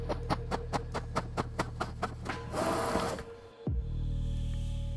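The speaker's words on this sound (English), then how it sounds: "it was time to start printing." Inkjet-style printer feeding paper templates for scratch-built Warhammer 40K bunkers: a rapid series of rhythmic ticking clicks, then a whirring paper-feed burst, a short clunk and a steady mechanical hum.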